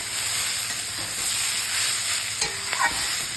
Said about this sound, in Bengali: হলুদ দিয়ে এবার বরবটিটাকে ভাজছি